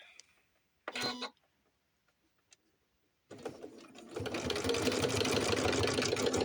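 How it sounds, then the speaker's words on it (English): A household sewing machine stitches together the back seams of doll slacks, starting with a brief whirring burst, then after a pause running steadily and loudly in a continuous mechanical hum. "One thing I guess I can go ahead and do is sew the backs together"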